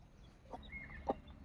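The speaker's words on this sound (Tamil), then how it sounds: "கோழி பாருங்கள், குஞ்சு பறிச்சிருக்குது." A hen with about ten chicks gives a few soft, low clucks against quiet farmyard background by a cattle shed, faint and brief with small peeps in between.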